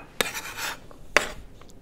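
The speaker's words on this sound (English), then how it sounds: "I'm down to my last potatoes here. Just want to make sure they're all cut up nicely" A kitchen knife chops potatoes on a cutting board with two sharp knocks against the board, separated by a soft scraping swipe, close and moderately loud with no talking.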